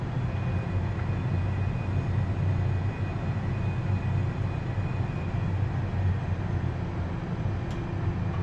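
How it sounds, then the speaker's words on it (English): Steady low engine rumble from an Airbus A320 taxiing on the ground, a continuous broadband drone with a faint whine, holding even and unbroken throughout with no talk. "So now we're just gonna go and taxi over right there."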